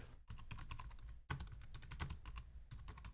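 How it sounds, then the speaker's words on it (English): Rapid, steady typing on a computer keyboard, close and clear, with a few brief pauses between bursts of clicking keys. "He started typing here and then stopped typing."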